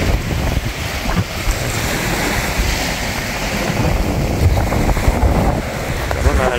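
Sea waves washing onto a rocky shoreline at Kawa-Kawa Bay, South Auckland, a continuous close roar of surf with gusting wind buffeting the microphone and no talk.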